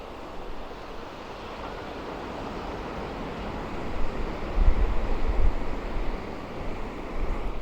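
Atlantic surf rolling onto the broad beach at Vieux-Boucau in southwest France, a steady wide wash of breaking waves with wind buffeting the mic, swelling louder midway, no voices.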